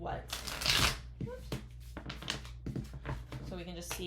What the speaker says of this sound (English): I'm just going to pull some love cards